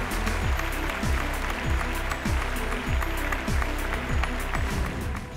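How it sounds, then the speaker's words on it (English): Audience at the 2019 ET Best Healthcare Brands awards ceremony gives a sustained round of applause, steady dense clapping that rises and falls slightly across the whole stretch. "a round of applause for the Economic Times Best Healthcare Brand"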